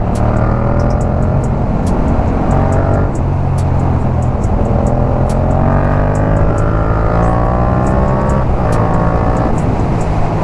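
A motorcycle engine revs steadily while being ridden, the throttle twisted open. A loud, continuous drone runs throughout with rising and falling pitch sweeps, and no voices are heard.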